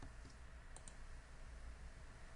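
A few sharp, quiet computer mouse clicks sound while selecting edges in CAD software, brief isolated taps over a steady hiss of background noise.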